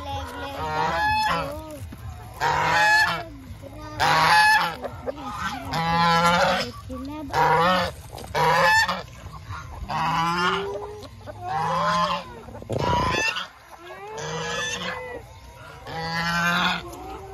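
Chickens being fed coconut pulp cluck and call repeatedly in short bursts nearby, with honking, goose-like fowl sounds mixed in and a few sharp knocks.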